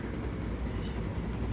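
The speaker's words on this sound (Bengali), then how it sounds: "ট্রেন চলছে।" A moving train rumbles steadily, a dense low continuous drone with faint rattling heard from inside, unbroken throughout and without voices.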